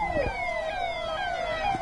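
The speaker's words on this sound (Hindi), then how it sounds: "तो देखिए जो कारकेड की गाड़ियां, सायरन की गाड़ियां वो बज रही हैं।" Sirens from vehicles in the Prime Minister's motorcade, a sweeping electronic wail rising and falling close by, with faint traffic rumble underneath.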